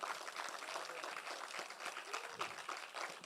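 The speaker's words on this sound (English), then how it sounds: "Please kindly give Obinna a well-deserved round of applause." Audience applause at an awards night ceremony, a steady dense patter of clapping filling the room, with some voices mixed in underneath.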